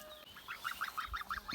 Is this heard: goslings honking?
yes